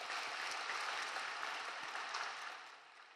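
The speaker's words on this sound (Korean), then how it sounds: "우리 은혜의 말씀 주신 강산 목사님께 감사의 박수 드리겠습니다." Korean church congregation giving applause of thanks to a visiting pastor, dense continuous clapping from many people that holds steady and then fades toward the end.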